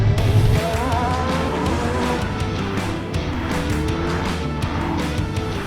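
A car is driven fast during the Mille Miglia road race, its engine giving a continuous loud, rising and falling drone with wind and road roar, close and steady throughout, with no talk.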